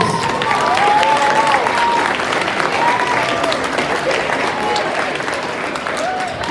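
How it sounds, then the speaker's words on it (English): School audience applauding after a guest speaker's talk at BJHS, a loud continuous roar of clapping with cheers and whoops rising over it, fading slightly toward the end. "let's give a big round of applause"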